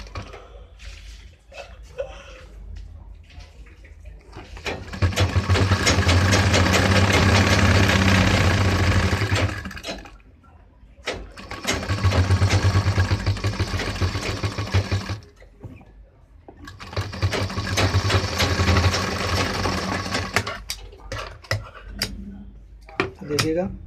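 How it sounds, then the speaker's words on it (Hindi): An electric sewing machine stitches along the edge of a pant, with three long bursts of rapid, steady whirring separated by pauses filled with handling noises and cloth rustle, nearby and fairly loud. "यानी लब पे सिलाई करेंगे इसकी किनार पे।"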